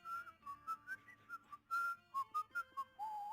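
Someone whistles a short, bouncy song intro of clear, separate notes, close and alone, with a few longer held tones.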